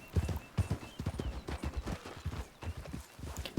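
Horse hooves clip-clop in Red Dead Redemption 2 on a cold mountain trail near a cougar's den: a close, rapid run of hoofbeats with a whinny mixed in, lasting a few seconds.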